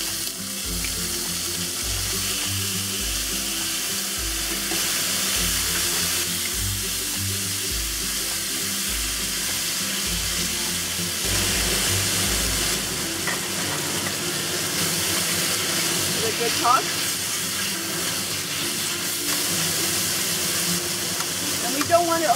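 Beef steak sears in an oiled pan over medium-high heat, giving a steady broadband sizzle throughout. A low rhythmic pulsing sits underneath for the first half, and light kitchen clatter is heard near the end.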